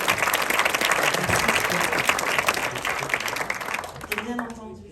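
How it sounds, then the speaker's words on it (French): An audience at a film premiere screening applauds the composer with dense, sustained clapping from a large room. It tapers off near the end as a voice begins to speak. "Tito, le compositeur du film, qu'on peut applaudir."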